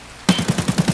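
A rapid burst of gunfire erupts after a brief quiet, roughly eight evenly spaced shots in quick succession, loud and close, like automatic fire in a game.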